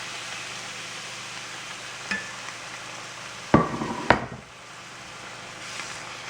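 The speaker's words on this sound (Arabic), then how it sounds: "السمنة والزيت، هشوحه لحد ما لونه يبقى شفاف كده يشرب السمنة دي" Onions for hamburgers sauté in ghee and oil with a steady, soft sizzling hiss, broken by a few sharp clanks of a utensil against the pan before the frying quiets slightly.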